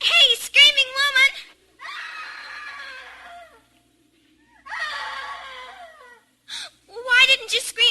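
A woman's high screams and wailing cries from a 1955 radio drama, loud and close in several bursts separated by short pauses.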